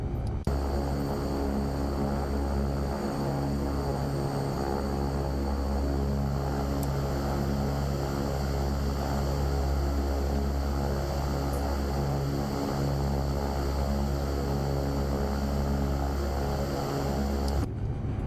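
A Beechcraft King Air 350 turboprop in X-Plane 12 taxis to the ramp, its propellers holding a steady, loud drone with layered engine hum and a high whine throughout, with no speech.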